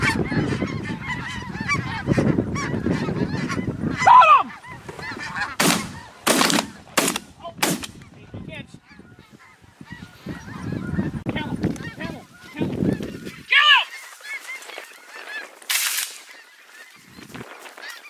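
Snow geese honk loudly and continuously over decoys during a spring goose hunt, a dense flock clamor with bursts of shotgun fire cutting through and hunters' voices mixed in.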